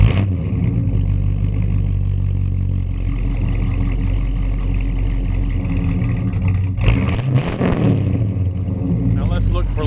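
A 1977 Camaro engine runs steadily just after a new fuel pump install, a loud continuous idle rumble with a brief surge of revving near the end.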